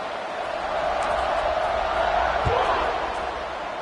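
Football stadium crowd at a college game kickoff, ASU versus BYU, a dense continuous roar of cheering that swells slightly midway, with a single thump briefly cutting through.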